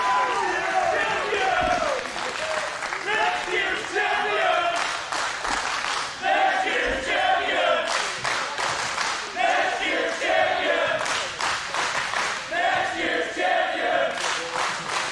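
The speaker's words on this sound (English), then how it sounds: "Fans break out into a next year's champion chant." Wrestling fans at an IWA Mid-South deathmatch show break into a loud, rhythmic crowd chant, with claps and shouts mixed in throughout the whole stretch, close and sustained.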